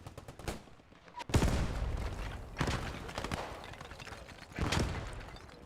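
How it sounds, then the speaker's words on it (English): Cannon and gunfire from a Firefly tank in the World War II game Post Scriptum, with several loud booming shots spread across the stretch, each one trailing off over a steady rumbling battlefield background. "Putting shots down now."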